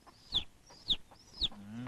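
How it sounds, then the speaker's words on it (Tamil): Chicks in a Tamil comedy film scene give three sharp, high peeps at even intervals, followed by a low tonal hum that closes the clip. "குஞ்செல்லாம் அங்க இருக்கு சத்தம் மட்டும் இங்க இருந்து வருது"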